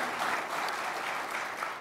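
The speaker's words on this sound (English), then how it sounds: "So you are allowed to clap for yourselves now." An audience at a long public transit board hearing applauds, a dense, even patter of many hands clapping at moderate distance with no talk over it.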